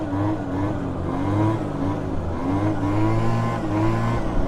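A 1997 Peugeot Zenith scooter's small engine revs steadily and close during a wheelie, its pitch climbing and dipping in waves as the throttle opens and eases throughout.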